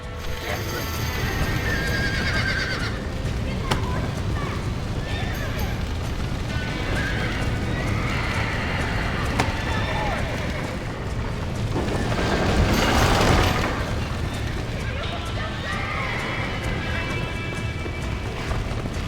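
Horses whinny and neigh several times amid clopping hooves and a loud rumbling crash midway in the video game Red Dead Redemption, busy and close throughout.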